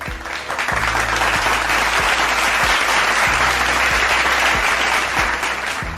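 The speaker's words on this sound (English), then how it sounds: "We'll have to give her a round of applause to welcome her." Studio audience applause welcoming a guest onto a finance talk show, dense and sustained clapping at close range across the whole stretch, with no talking.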